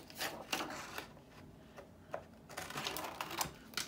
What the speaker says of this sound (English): I'm gonna cut them out.